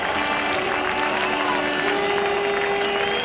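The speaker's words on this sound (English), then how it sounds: "Well, crowds come alive again." A cricket crowd at Kennington cheers and applauds as India reach 100 against Australia in 1999, a dense, steady roar of clapping and voices that carries through the whole stretch.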